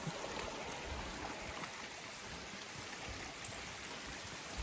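Spring water flows steadily out of a hillside at Defiant Spring, a constant close rushing and gurgling that fills the whole stretch with no break and no voices.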